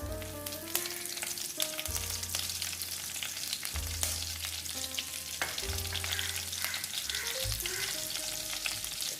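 Karuvadagam and curry leaves crackle and sizzle steadily in hot oil for tempering a turkey berry thokku, with a few stirring clinks and no one talking.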